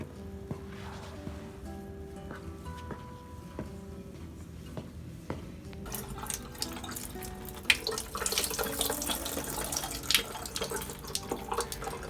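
Tap water runs into a kitchen sink while raisins are drained, starting as faint dripping and trickles, then swelling into a steady loud splashing stream close by.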